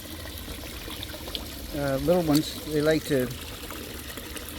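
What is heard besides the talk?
compost liquid poured into goldfish water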